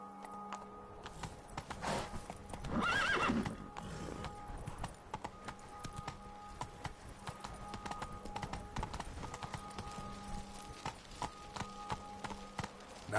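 A video game horse named Roach moves along with a steady clip-clop of hooves, quiet and continuous, plus a brief louder burst of other game noise early on.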